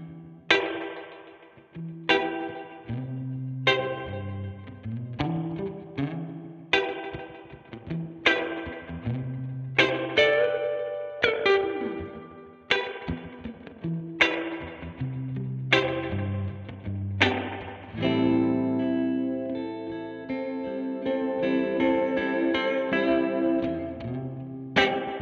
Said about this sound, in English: Trusty Boss RV500. A lot of tones in here.